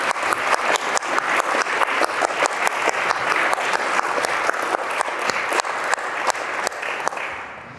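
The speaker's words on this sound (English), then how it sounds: "let's have a big round of applause again for Michelle" An audience at an engineering innovation lecture breaks into sustained applause, many hands clapping with faintly pulsing, near-rhythmic beats that hold steady before fading at the end.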